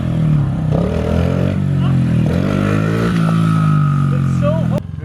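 A pit bike motorcycle engine revs hard and close for wheelies, its pitch rising and falling with the throttle before cutting off abruptly near the end.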